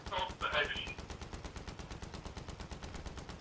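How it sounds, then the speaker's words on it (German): Rapid automatic gunfire rattles in a fast, even burst from the video game Battlefield 3, with a voice speaking briefly over the opening shots. "Ich habe gerade auf den Helikopter geschossen"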